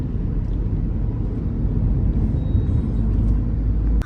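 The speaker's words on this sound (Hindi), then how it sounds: "ये स्कूल के बाहर का ट्रैफिक है।" Road traffic outside a school, heard from inside a waiting car: a dense, steady low rumble of engines with a brief faint hiss, continuous and fairly loud, with no voices.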